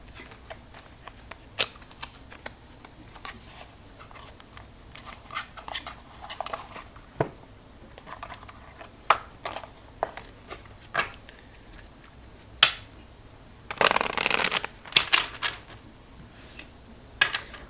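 A deck of tarot cards being handled and shuffled, with scattered soft taps and flicks, then one dense riffling burst near the end, close and quiet.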